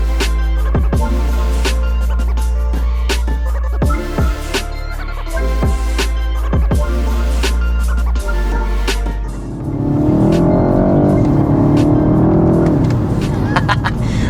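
A BMW 128ti cranks over and settles into a deep, steady idle punctuated by sharp clicks, then pulls away with a rising, rumbling drone of engine and road noise, loud and close.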